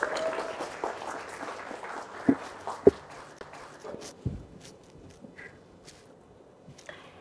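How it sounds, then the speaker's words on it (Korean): Applause from a live audience welcoming an Irvine real estate agent onto a talk show, a scattered, moderately loud patter of claps that thins out and fades toward the end. "큰 박수 부탁드립니다"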